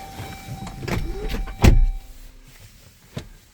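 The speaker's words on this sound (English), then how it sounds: "We'll just close the moonroof. That was just one touch of this button here." The power moonroof of a 2022 Chrysler Pacifica closes with a soft motor whir and ends in one firm thunk, followed by a faint click, close by inside the cabin.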